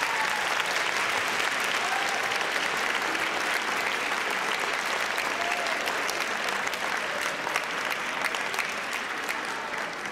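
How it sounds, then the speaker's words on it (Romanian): An audience applauds ballet students from a Bucharest choreography high school taking the stage, a dense, sustained wash of clapping from a large crowd that holds steady throughout without voices. "Aplaudați-i!"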